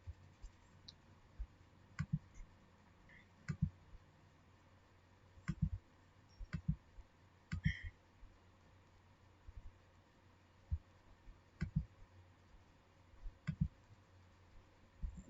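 Computer mouse clicking, heard as a series of quiet, sharp single and double clicks spaced irregularly over faint background hiss, with no voices.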